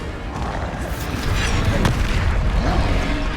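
A Confringo spell explosion in Hogwarts Legacy, a loud, dense booming burst with a sharp crack near the middle, filling the short clip at close range with no talk over it.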